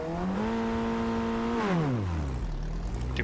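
A Ray F1600 race car engine in iRacing at Laguna Seca revs with too much clutch. The buzzy engine note climbs and holds briefly, then sags and drops away over a few seconds.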